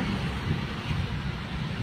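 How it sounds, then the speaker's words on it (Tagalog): Steady strong wind roars and buffets the microphone on Makati Avenue amid traffic, a constant low rumble with no voices. "Malakas po ang hangin ngayon dito sa Makati Avenue."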